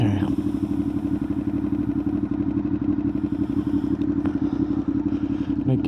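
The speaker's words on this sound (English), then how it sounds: "this wind is just insane" Strong wind buffets a rider on a Honda VFR800fi motorcycle, a loud constant roar and flutter close to the microphone, with the engine running steadily beneath.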